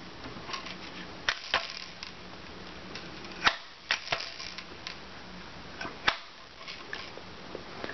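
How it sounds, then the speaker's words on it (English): A Crosman 760 Pumpmaster air rifle gives a series of sharp mechanical clicks and snaps, with several distinct clack transients from pumping and one louder crack near the middle, all over quiet background noise. "Now all you got to do is pump it and fire."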